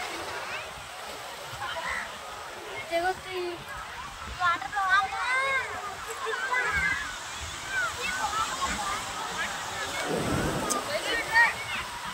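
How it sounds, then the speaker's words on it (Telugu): Waves washing and sloshing nearby on Kakinada beach in a continuous roar, with voices chatting over the surf throughout. "అలలు కూడా తక్కువ వస్తున్నాయి బాగా"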